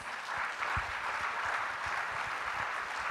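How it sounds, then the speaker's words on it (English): Audience applause at a medical leadership symposium of the Ghana College of Physicians and Surgeons, a soft, even patter of many hands clapping that holds steady throughout, somewhat distant and hall-like. "round of applause"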